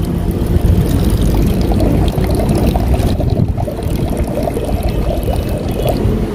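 Water poured into a basin, a loud continuous gushing splash that fills the whole stretch without pause, close up, with no talking.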